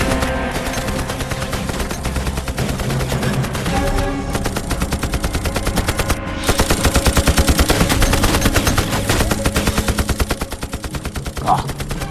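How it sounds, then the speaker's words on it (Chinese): Rapid, continuous Japanese machine-gun bursts from a war drama battle, dense and loud with regular rattling pulses throughout, over a steady din of combat. "哥，这日本人这么开枪啊？哒哒哒哒咚咚咚咚"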